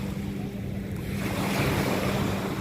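Sea waves washing onto the shore, a steady loud roar of surf with wind buffeting the microphone, swelling slightly partway through, with no one speaking.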